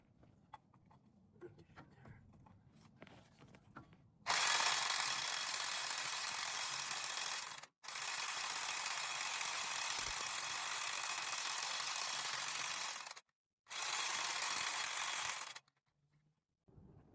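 A corded power tool works a stubborn nut under a Nissan D21 truck during front differential removal, roaring in three loud sustained bursts with brief gaps, after quiet shuffling and faint background noise.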